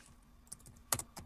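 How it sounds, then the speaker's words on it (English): A few quiet, sparse keyboard clicks, faint and close, with a brief cluster of sharper keystrokes near the end. "I hear him typing."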